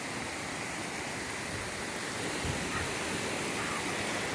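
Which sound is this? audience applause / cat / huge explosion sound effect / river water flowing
river water flowing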